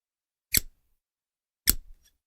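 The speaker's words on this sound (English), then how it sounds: "Scissors go snip" Two crisp scissor snips, about a second apart, each a short sharp cut in otherwise quiet surroundings.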